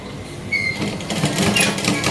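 A sewing machine stitches a six-panel petticoat in a tailoring class, a close, steady whirring run of needle strokes lasting about two seconds.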